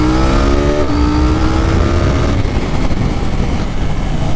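A KTM 790 motorcycle pulls hard through its gears on a highway, the loud engine note climbing in pitch, dropping at a shift and climbing again under steady wind roar.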